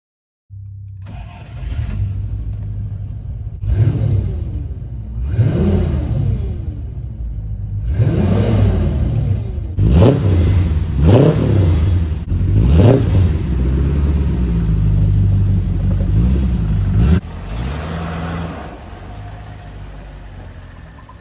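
A Rover V8 engine upgraded from 3.5 to 4.6 litres, fitted to a Rover P6 on a dyno with factory-style exhaust, starts up and rumbles loudly, with several sharp revs climbing and falling over a steady idle.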